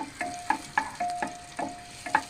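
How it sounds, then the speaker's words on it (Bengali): Vegetables sautéing in oil with onion and garlic in a pressure cooker for chicken soup, with regular stirring scrapes about every half second over a low sizzle and a faint steady tone, close and without talk. "এই যে সবজিগুলো অ্যাড করছি, করে খানিকক্ষণ কষিয়ে নিয়েছি"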